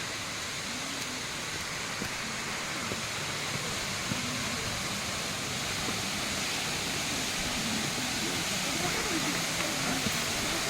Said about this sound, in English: This is the Kalapad waterfall of Kalahandi district.